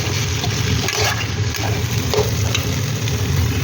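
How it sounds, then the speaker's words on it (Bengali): Spice paste with salt sizzles steadily in a hot pan as it is stirred and sautéed, a constant close frying hiss with light scraping stirs and no talk. "নুন দিয়ে ভালো করে মিশিয়ে নেব।"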